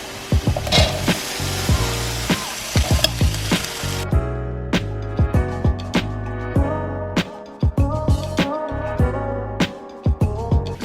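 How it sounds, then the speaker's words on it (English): Diced onions, spinach and other veggies sautéing in a pan, a steady sizzle broken by repeated scraping knocks of a utensil stirring against the pan. "With the quinoa is some sauteed veggies, and I'm gonna start off with some diced onions"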